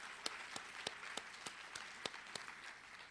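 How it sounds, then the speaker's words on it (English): Sparse, faint applause from a conference audience at a public transportation event, a few distinct claps landing in a loose steady rhythm over quiet room noise. "you can give yourselves a round of applause"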